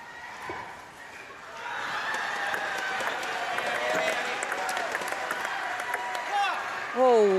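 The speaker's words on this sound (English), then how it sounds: "Unexpected, but claps earned even from the German coach." Crowd applause and scattered clapping swell and hold steadily at a para table tennis singles match in Paris, reacting to a defensive rally, with a brief voice rising near the end.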